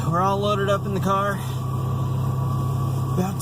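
A car engine idles steadily as a low, constant hum before setting off. A voice speaks over it for the first second or so, then the engine carries on alone.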